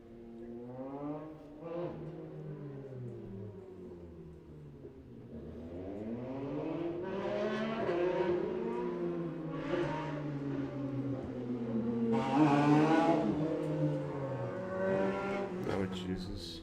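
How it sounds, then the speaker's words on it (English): Loud motorcycles passing close by on a road, engines revving with rising and falling pitch in several waves, a couple of swells peaking near the end, with a voice briefly heard over the roar. "It's fucking loud motorcycles."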